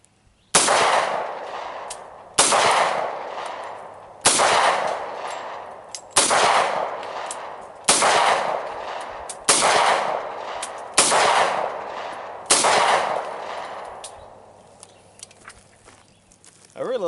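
A 1911 pistol empties a full magazine in eight sharp, loud reports spaced evenly about a second and a half apart, each shot trailing off in a brief echo.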